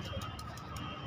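Soft, low pigeon cooing repeats over a steady background hum, faint and fairly close, with no talking.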